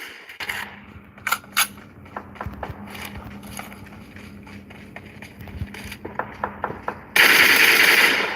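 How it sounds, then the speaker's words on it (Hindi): Gunfire in the mobile battle royale game PUBG Mobile, with scattered sharp single shots and short bursts, then a loud, sustained rattle of rapid fire near the end. "तो मैं उसको फिनिश करने के लिए गोली चलाता हूँ।"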